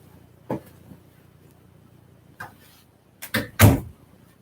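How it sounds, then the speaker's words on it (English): A door is closed indoors: a few soft knocks and shuffles build to a short cluster of louder thuds ending in a firm close, all alone. "I'm going to close the door."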